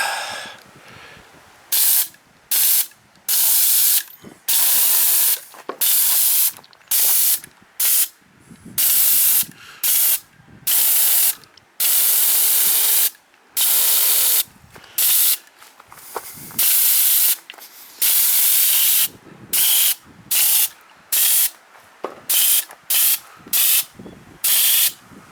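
Repeated bursts of spray gun hiss as glaze is sprayed onto pottery, short blasts of a second or two separated by brief pauses, loud and close with no talking.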